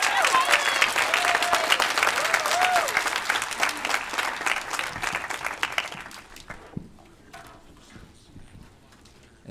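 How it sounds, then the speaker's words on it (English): An audience at a high school graduation ceremony applauds for the student drum major, loud sustained clapping with a few cheers that thins out and fades to scattered claps toward the end. "Let's give her a round of applause"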